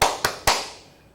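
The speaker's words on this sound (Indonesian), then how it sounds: "Saya katakan malam, tepuk tangan." Pupils clap their hands on a teacher's cue in a home-learning school lesson: three sharp, close claps in quick succession, each ringing out briefly before fading to quiet.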